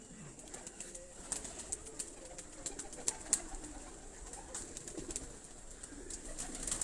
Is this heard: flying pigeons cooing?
yes